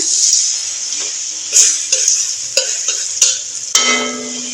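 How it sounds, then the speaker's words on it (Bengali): Dried red chillies, a bay leaf and cumin seeds crackling in hot oil, a bright sizzle punctuated by several sharp scrapes and knocks of a spatula against the pan, close and fairly loud. "আর এই যে শুকনো লঙ্কা দিয়ে দিচ্ছি আমি তেজপাতা দিয়ে দিচ্ছি একটা"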